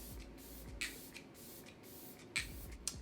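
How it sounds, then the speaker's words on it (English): A Glow Recipe Watermelon face mist sprayed lightly onto a face: a few short, soft hissing spritzes spaced apart, close and quiet, with no talking. "I'm just gonna lightly spray my face with the Watermelon Glow Recipe face mist."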